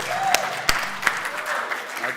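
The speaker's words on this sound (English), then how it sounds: "A round of applause for our CEO, Mithun Shetty." Audience at a blockchain summit clapping for the company's CEO, a short burst of scattered, uneven claps with a few sharp distinct hits standing out, moderately near, with some voices underneath.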